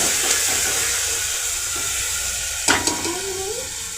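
Onions, chilies and tomatoes sizzle in hot oil, a steady close hiss that runs throughout, with a brief clatter of stirring near the end.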